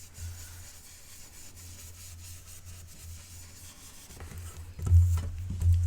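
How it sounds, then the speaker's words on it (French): Blending brush rubbing ink gently onto paper with almost no pressure, a soft, faint repetitive scrubbing that grows slightly louder and fuller toward the end. "Je ne mets vraiment aucune force, je laisse travailler la brosse estompe."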